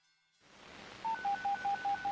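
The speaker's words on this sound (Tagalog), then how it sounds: "Dial 911" A telephone dials 911, a handful of short, evenly spaced touch-tone beeps ringing out clearly over a faint line hiss that follows a brief silence.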